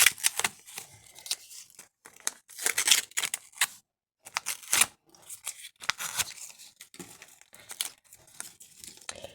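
Crinkly plastic tearing and rustling in repeated bursts, close by, with brief pauses between the rips as a small packet of vanilla sugar is worked open.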